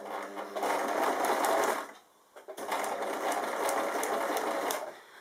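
A sewing machine set to stitch length 3 sews quilt binding along the fold in two long steady runs with a brief pause between them, close and loud with no one speaking.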